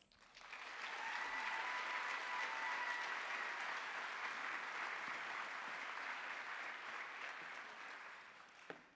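Sustained applause from a large commencement audience welcoming Dr. Ramos at a graduation ceremony for nurse anesthesia and nurse practitioner graduates, steady and full for about eight seconds before tapering off.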